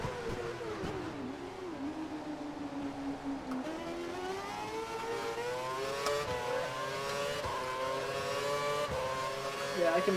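Formula 1 race car engine in the F1 2012 racing game, a steady high-pitched whine that climbs and drops through gear changes, loud and continuous, with a voice talking over it.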